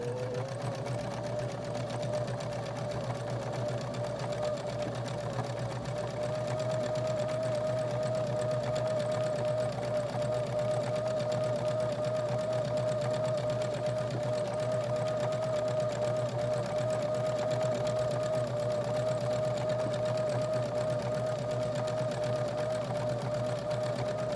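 Sewing machine stitching an upcycled shirt, running in one steady, continuous hum with a constant motor tone throughout, close and fairly loud with no talking.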